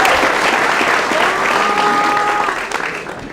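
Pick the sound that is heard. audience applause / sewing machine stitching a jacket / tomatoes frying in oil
audience applause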